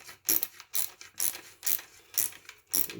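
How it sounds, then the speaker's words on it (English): A hose clamp is tightened with a hand tool while making a weeding tool, giving seven quick ratcheting clicks in an even rhythm, close and fairly quiet, with no voices. "Tighten the hose clamp on."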